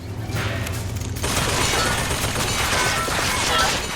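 Heavy gunfire tearing apart a turret in BioShock Infinite, with sustained bursts of shots and crashing impacts that intensify after a moment and stay loud throughout, with a voice mixed in.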